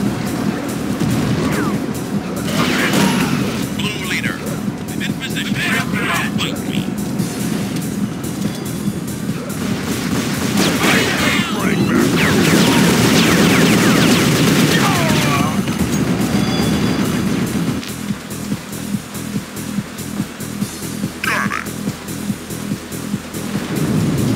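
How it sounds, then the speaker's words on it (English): Gunfire in Unreal Tournament played with Counter-Strike weapons, heard as dense, loud bursts and booms running continuously under a game's noisy mix, with some radio-style voice chatter in parts. "We're taking enemy fire."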